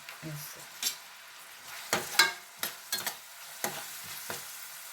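Onions frying with a pinch of salt in a pan for a tomato egg curry, faint sizzling under a series of sharp spatula scrapes and taps against the pan in an uneven rhythm.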